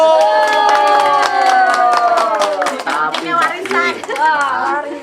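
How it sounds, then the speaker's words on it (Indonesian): Studio audience clapping along in a rhythmic burst on an Indonesian talk show, loud and close, with people talking and some children's voices over it. "Tepuk tangan Ibu."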